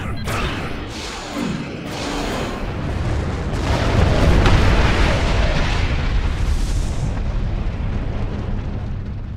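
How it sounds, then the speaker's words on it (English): Starship weapons fire and rumbling explosions in the Star Trek Online video game, a dense, loud wash of booms and bursts that builds midway and continues, with sharp blasts early on. "Aft weapons, fire!"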